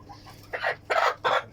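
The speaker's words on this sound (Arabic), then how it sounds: "هاي دجاجة" A hen on a farm gives three short, raspy clucks in quick succession, close and fairly loud, over a quiet background.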